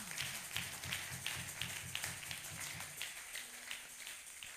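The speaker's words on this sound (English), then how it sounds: "Clap for Jesus." Rhythmic hand clapping from a church congregation, steady evenly spaced claps heard at a distance and fairly faint, with a low hum under it.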